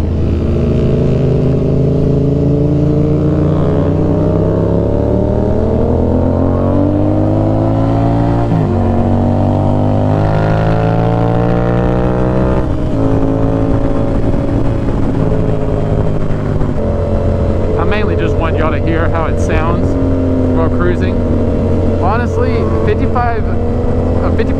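A Yamaha FZ stunt motorcycle cruises in fourth gear at about 5,000 RPM, its engine a steady, loud drone that rises and falls in pitch through the ride, with wind noise throughout and a rider talking over it.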